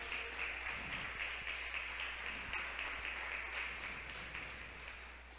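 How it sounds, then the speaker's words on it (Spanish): A church congregation claps in a sustained burst of applause for about five seconds. The sound is fairly faint and fades slightly toward the end. "¿Cuántos le dan un fuerte aplauso al Señor?"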